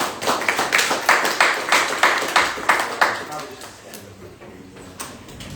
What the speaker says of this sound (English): Can you give her a applause, please?